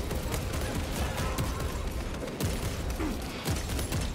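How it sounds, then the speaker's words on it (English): Rapid, dense bolt rifle gunfire from the Space Marine 2 video game, a continuous loud mechanical rattle of shots mixed with clanking mechanisms and several heavier thumps. "Oh, the sound of the bolt rifle."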